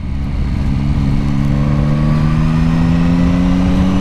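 A 2021 Yamaha MT-09 motorcycle engine pulls hard under acceleration, its rising, steady drone loud and close throughout with no talking.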